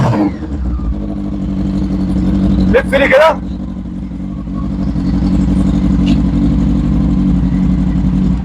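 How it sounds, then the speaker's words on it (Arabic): A 2001 Honda Hornet 600 motorcycle engine runs loud and steady close by, with a brief sharper burst of revving partway through and someone speaking briefly over it. "تعالى سمعهم صوت الموتوسيكل عشان بس الصوت عالي قوي"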